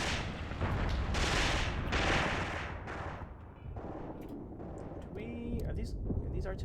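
Artillery firing in the war game Graviteam Tactics, heavy booming blasts with long rumbling tails rolling one after another, loud and close, with a faint voice over the later part.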